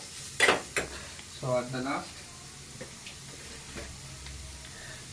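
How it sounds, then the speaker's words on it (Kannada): Something sautéing in a pan over a low stove flame gives a soft, steady sizzle, with a few sharp utensil clinks and scrapes against the pan, under a voice talking. "ಸೊ ಆದಷ್ಟು ಸ್ಟವ್ನ ಸಿಮ್ಮಲ್ಲೇ ಇಟ್ಕೊಂಡು ಬಾಡಿಸಿ."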